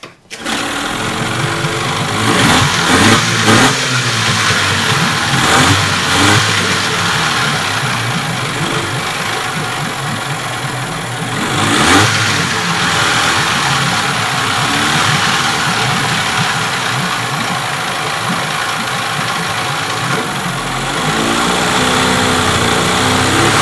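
A 15 HP Evinrude outboard motor runs steadily and loudly for the whole stretch, a continuous buzzing drone with slight swells in pitch and a brief surge near the middle.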